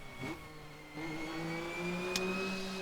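A McLaren MP4/4 Formula 1 engine in the Assetto Corsa racing game revs and climbs, a thin rising engine tone with a gear change partway, moderately loud and continuous without speech.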